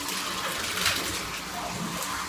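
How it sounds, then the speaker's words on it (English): Warm water gushes steadily from a tap into a bathtub, a dense, loud, unbroken rushing close by. "I go put some warm water in the tub"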